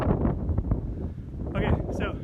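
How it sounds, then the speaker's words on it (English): Strong wind buffets the microphone in gusty, rumbling blasts on an exposed height at a hillside campus, loud and continuous beneath a speaker's voice. "It might get too windy for this, so if it gets too loud."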